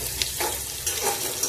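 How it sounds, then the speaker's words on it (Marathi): Diced potatoes sautéing in a hot pan while making sabudana usal, a soft steady sizzle with a few light scraping stirs, close and moderately quiet, no voices. "बटाटा चांगला परतून घ्या"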